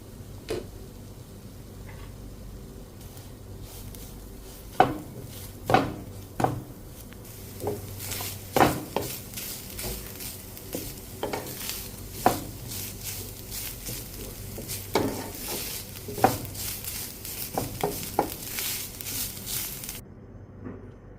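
Drumstick leaf thoran being stirred in a covered pan, with scattered spoon taps and scrapes against the pan over a low background, irregular and fairly soft, with no talking.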